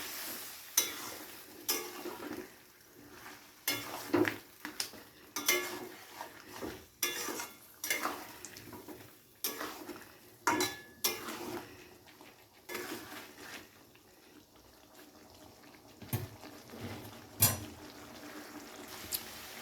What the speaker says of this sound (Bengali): জল দিয়ে মশলা কষালে খুব সুন্দর টেস্ট হয়।